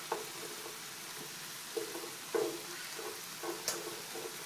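Yakisoba noodles fry in a pan under a constant sizzle, and a utensil stirs them with occasional soft scrapes and clacks. Quiet and close, with no voices.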